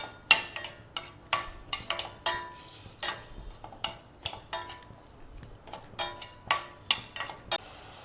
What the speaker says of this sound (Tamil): அதில் சேனக்கிழங்கு கொஞ்சம் போட்டுட்டு அதில் லேசாக வதக்கிக்கலாம்.